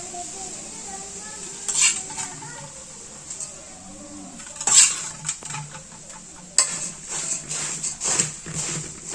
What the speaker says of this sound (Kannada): ಇವಾಗ ಇದಕ್ಕೆ ನಾನು ಒಗ್ಗರಣೆನ ಹಾಕ್ಕೊಳ್ತೀನಿ ರೀ